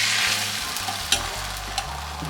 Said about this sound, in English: When the pan is warm, add the eggs.